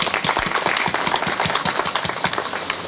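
A gathered audience at a public event claps to welcome a doctor, with distinct, fairly loud hand claps forming a brisk, uneven patter throughout.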